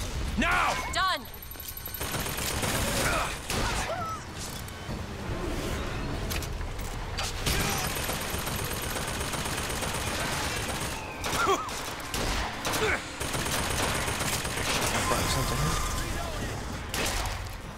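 Rapid bursts of gunfire from a Bioshock Infinite firefight crackle through most of the stretch, with voices shouting over the shots and intermittent gaps between volleys.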